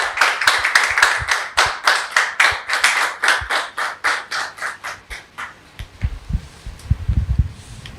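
Studio audience applause welcoming a guest on a television talk show: brisk, rhythmic clapping in steady beats for about five seconds, then thinning out and dying into low rumbling handling noise.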